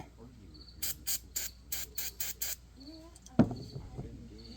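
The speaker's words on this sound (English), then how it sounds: "Give it another spray since I just scraped on it." Seven short bursts of aerosol spray hiss in a quick, even rhythm on a small four-wheeler being worked on, followed by a sharp clunk and faint rustling.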